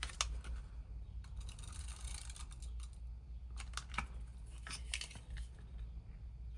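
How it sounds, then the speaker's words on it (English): Tape pressed and smoothed along the outside edge of a paper wedding card flap, giving faint, close crackles and small ticking rustles scattered over a low steady room hum, with no speech. "I'm going to tape the outside edge on both sides of this flap."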